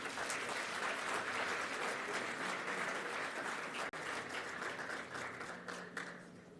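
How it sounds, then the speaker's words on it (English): A conference audience at a hydrogen summit applauds steadily with dense, sustained clapping that fills the room, holding at an even level before easing slightly toward the end. "Shall we please give them another round of applause?"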